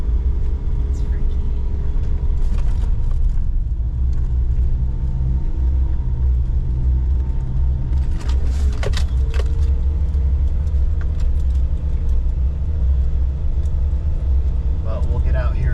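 A vehicle rolls slowly along a tiny, narrow road near an ancient stone circle in Japan, with a steady low engine rumble and road noise throughout, occasional rattles and clicks, and a sharp squeak or two midway.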